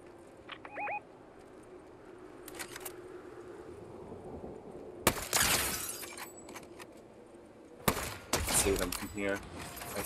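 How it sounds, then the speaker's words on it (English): Gunfire bursts from a Fortnite Zero Build squad match: two loud broadband volleys around the middle and end, with brief faint clicks and tones between them over a quiet ambient bed. "I see the return fire down there."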